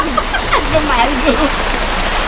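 A river running high after rain rushes and gurgles steadily beside a campsite, loud and close, with people talking over the water.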